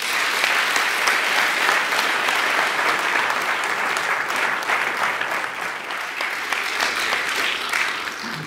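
Audience applause fills a film festival award ceremony, a steady, dense clapping from a large crowd that holds evenly throughout without talk over it.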